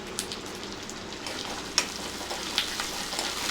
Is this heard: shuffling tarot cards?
no